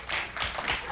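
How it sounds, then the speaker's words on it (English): A small studio audience on a late-night talk show gives a brief, thin smattering of applause, soft scattered clapping that rises and fades in a few loose bursts. "That, by the way, is the very definition of a smattering of applause"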